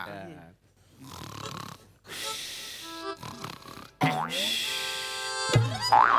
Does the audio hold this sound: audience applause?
no